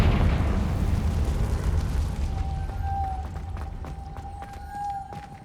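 A Confringo spell explosion in the Hogwarts Legacy video game, a loud broad blast that rumbles and slowly fades over several seconds, with a faint tonal ring and a few small crackles.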